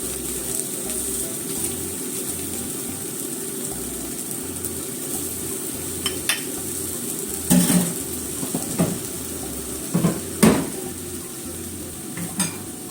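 Mochi sizzling in an oiled pan with a little water added, a steady frying hiss punctuated by a few spatula clinks and scrapes, close and moderately loud.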